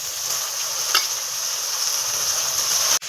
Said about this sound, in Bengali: পেঁয়াজটা টমেটোটা একসাথে ভাজা হয়ে গেছে, এবার চিকেনটা দিয়ে দেবো।